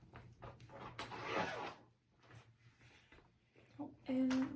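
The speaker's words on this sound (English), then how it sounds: "Oh, I have one more zipper." A clothing zipper is pulled open or shut near the microphone in a few quick rasping strokes, with a faint voice and light handling noise around them.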